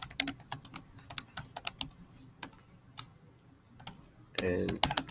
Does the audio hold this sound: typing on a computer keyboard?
yes